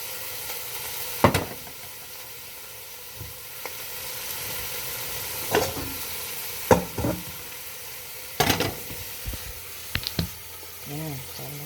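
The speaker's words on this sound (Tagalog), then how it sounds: "Halo-halo natin yung karne." Tripe and meat being stirred in a cooking pot over a low steady sizzle, with sharp intermittent scrapes and clanks of a utensil against the pot at irregular intervals.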